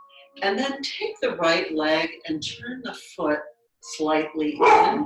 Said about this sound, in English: Sorry about my dog again.